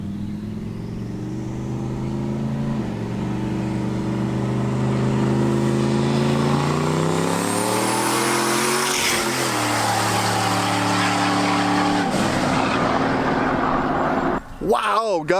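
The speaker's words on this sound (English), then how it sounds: "It sounds just like a turbo LS car, and it's a full-size truck hauling ass" A full-size truck with a turbocharged LS engine revs and accelerates hard, its loud droning engine note climbing in pitch and dropping through gear changes, heard from close inside the cab.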